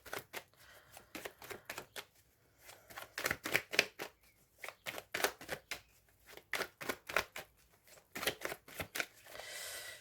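Tarot cards being shuffled by hand in quick, crisp riffling bursts, close and fairly quiet, repeated in short rhythmic runs with brief pauses between them.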